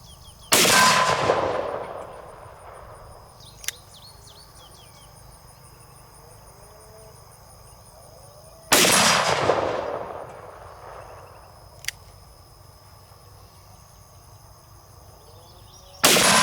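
Two loud, sharp shots from a Magnum Research BFR revolver chambered in .450 Marlin or .45-70, each striking a steel target with a sharp ring, spaced several seconds apart outdoors, with insects chirping steadily in the background.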